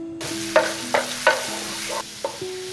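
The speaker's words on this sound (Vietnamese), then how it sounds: "Cho vào chảo 1 muỗng canh dầu và cho vào nửa muỗng canh hành tỏi vào phi lên cho thơm." Shallots and garlic sizzle in oil in a pan, a steady close crackle broken by several scraping stirs of a utensil, with no voices.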